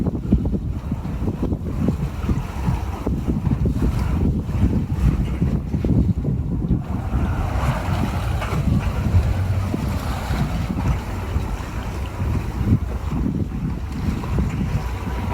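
Strong wind buffets the microphone aboard a motorboat at sea in rough, sloppy weather, a steady roaring gust noise with waves and hull wash underneath, loud and continuous with no talking.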